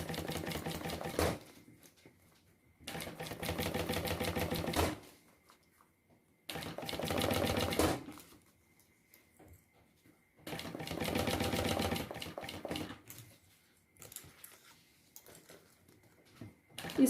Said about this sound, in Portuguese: Agora, eu venho costurando naquela linha que eu fiz.